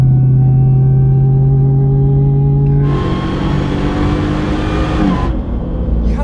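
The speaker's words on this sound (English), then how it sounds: "when it's full throttle like that, it sounds like something is wrong almost." A Demon-swapped Jeep Gladiator on 40-inch tires roars at full throttle, a loud steady engine drone with a harsher, raspier blast joining midway before easing off.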